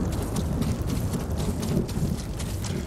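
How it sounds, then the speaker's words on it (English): Steady heavy rain with low rumbling thunder during a stormy scene in Ghost of Tsushima, a dense continuous wash of sound with no voices over it. "Oh, it's thunder and lightning."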